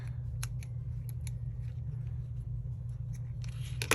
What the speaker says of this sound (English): Might be time for new scissors, Julie.